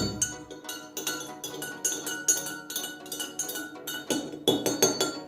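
Spoon clinking repeatedly against a mug while stirring bicarbonate of soda and water, a quick steady series of bright metallic-ceramic taps close by, with no talking.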